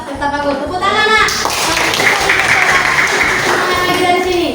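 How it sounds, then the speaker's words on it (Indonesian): Students clapping hands together in a classroom, a burst of quick overlapping applause close by, with a voice speaking at the start. "Tepuk tangan nak."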